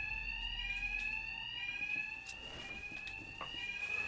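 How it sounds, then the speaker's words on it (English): An alarm in the Batman: Arkham Knight video game rings in a loud, steady, high-pitched electronic tone. It holds continuously throughout with a slight pulsing wobble and no voices. "Hear me over the alarm."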